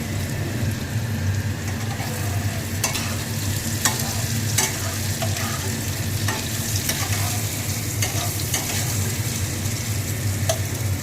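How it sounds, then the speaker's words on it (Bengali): Papaya and potatoes fry in a pan, a steady loud sizzle broken by repeated clacks and scrapes of stirring at irregular intervals. "বন্ধুরা দেখতেই পাচ্ছ যে পেঁপে আলুটা অনেকটাই ভাজা হয়ে গেছে আমার।"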